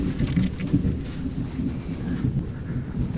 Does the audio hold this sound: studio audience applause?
no